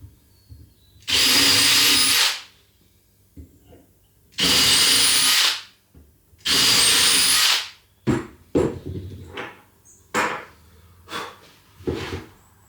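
A power drill bores pilot holes for a cabinet door hinge in three loud, close bursts of whirring, followed by scattered clicks and handling knocks.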